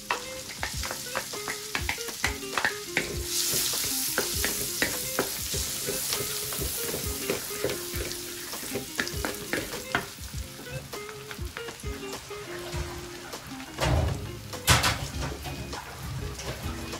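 Garlic frying in a pan for a chicken, mushroom, coconut and butter dish, a steady close sizzle broken by frequent scraping and clattering stirs, with a louder flurry of scraping near the end.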